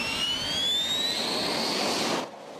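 Egyptian fighter jet engine roaring with a steady broadband rush and a rising whine, loud and close, then cutting off sharply near the end.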